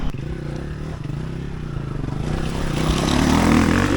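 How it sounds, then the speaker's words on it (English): Motorbikes speeding past on a hot road in Bosnia during an adventure trail ride, a steady loud engine drone that swells toward the end as the bikes close in, with wind buffeting and no speech. "Are the bikes hooning it past?"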